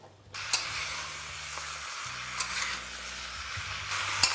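Sliced onions stir-fried over a high flame, with a steady close sizzle broken by the scrape and clatter of a spatula turning them every couple of seconds.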